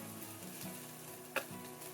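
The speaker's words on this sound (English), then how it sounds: "Then we toss in the crumbled tempeh. We'll give it a stir to mix and toast the tempeh a little and separate clumps." Crumbled tempeh toasting in a pan gives a quiet, steady low sizzle with faint scraping as it is stirred, plus one small sharp tick of the utensil against the pan partway through.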